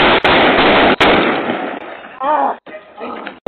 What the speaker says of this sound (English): Shot fired by the police.